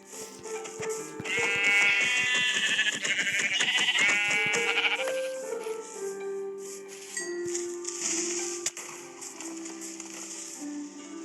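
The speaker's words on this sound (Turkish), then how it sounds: "Koyun." Sheep in Minecraft bleat repeatedly, a run of wavering, nasal calls that overlap and fade, later followed by a few softer bleats and a short sharp click, with no one speaking.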